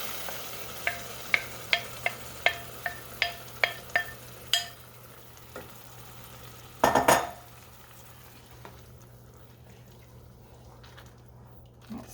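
Crushed whole tomatoes go into a pot for a basic tomato spaghetti sauce and get stirred with a spoon, a run of sharp metallic clinks and taps, then a louder splashy clatter, fading to quiet simmering.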